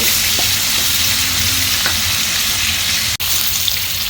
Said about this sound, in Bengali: পেঁয়াজ কুচি দিয়েছি, কাঁচামরিচ, লবণ আর সয়াবিন তেলের মধ্যে এগুলো দিয়ে একটু নেড়ে চেড়ে নিব